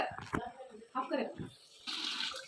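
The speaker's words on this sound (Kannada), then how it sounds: "ಅಕ್ಕಿನ ವಾಶ್ ಮಾಡ್ಕೊತಾ ಇದ್ದೀನಿ" Rice grains are swished and rinsed in water in a home kitchen for mushroom pulao, with short splashing and sloshing bursts under a woman's close-up talk.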